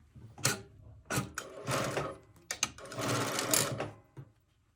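A sewing machine stitches fabric with a presser foot in quick rattling bursts, several runs of rapid mechanical chatter separated by short pauses, close and clear.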